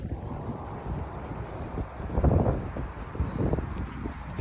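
Strong wind blows outdoors at night during a storm and power outage, buffeting the microphone with a continuous rumbling roar that swells and gusts. No one speaks.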